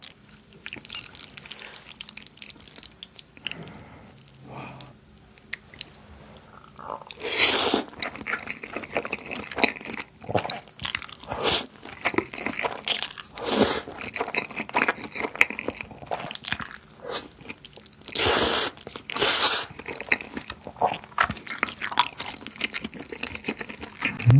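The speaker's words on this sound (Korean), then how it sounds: "파스타 한번 먹을게요" Close-up eating of cheongyang cream carbonara pasta: wet, squishy chewing and slurping with occasional louder crunchy bites and clinks, continuous and intimate, with no talk.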